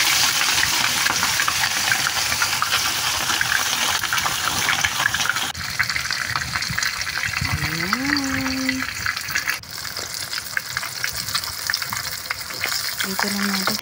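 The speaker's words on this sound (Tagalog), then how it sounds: "Tapos, ipito lang natin ating isda." Fish fries in hot cooking oil for a fish with coconut milk dish, a dense, steady crackling sizzle filling the whole stretch, with a brief vocal-like tone partway through.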